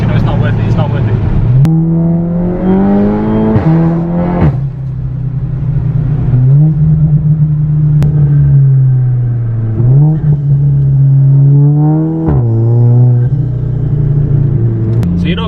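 A tuned 420 bhp Seat Leon Cupra engine revs repeatedly up and down in loud, close pulls, with sharp pops between rises and a voice talking over parts of it.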